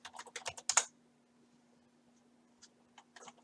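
Close computer keyboard typing in a quick burst of keystrokes, then a pause and a few scattered later taps, over a faint steady hum at a Windows PC.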